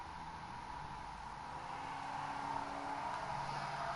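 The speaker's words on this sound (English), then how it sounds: "why do cars go by my house so loud?" A car drives past a house with a loud, sustained rush of engine and road noise that swells gradually over several seconds, heard indoors with no one talking.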